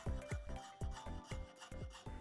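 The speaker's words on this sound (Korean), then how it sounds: "열심히 사포질한 자개를 갑자기 잘라내는 장인" An artisan cutting sanded mother-of-pearl for lacquerware inlay, a rhythmic series of about eight short, rasping strokes, close and fairly quiet, each stroke sharp at its start then tailing off.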